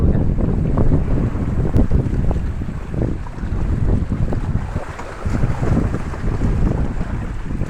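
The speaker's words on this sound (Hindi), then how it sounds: "कितना बारिश के पानी में से ये इलेक्ट्रिक स्प्लेंडर हम चला रहे हैं." An electric Splendor motorbike is ridden through flooded rainwater, giving continuous rough splashing and wash of water with rumbling wind noise, loud and close throughout with no talk.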